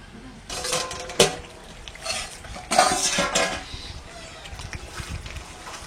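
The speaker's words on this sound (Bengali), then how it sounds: "আস্তে আস্তে জাল দিয়ে আমি নেড়ে দিই" Chicken chaap meat being stirred in a pot over low heat, with a few sharp clinks of a spoon against the metal and soft scraping and sizzling, close by and moderately loud.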